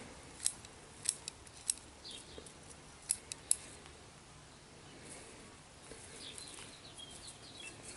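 Scissors snip the upper growing needles of a plant, giving five or six sharp, close clicks in the first few seconds over a quiet background, with faint rustling afterward.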